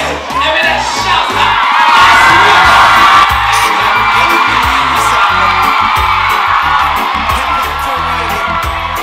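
Students at a senior high school event cheer, whoop and shout as a crowd, loud and continuous throughout, with the clapping blended into the roar.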